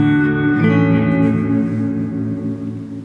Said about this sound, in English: Both notes come through, the guitar and the after effect of the reverb.